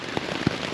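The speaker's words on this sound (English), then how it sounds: "I'm so grateful for this rain" Rain falls on the Appalachian Trail near the Mason-Dixon line into Pennsylvania as a steady close hiss, with two brief soft pops of drops landing, and no talking.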